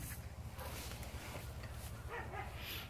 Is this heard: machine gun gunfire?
no